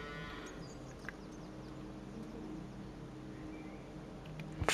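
Highland cattle moo in the farm game Farming Simulator 25, a low drawn-out bovine call running steadily over a farm ambience, with a brief louder sound at the very end.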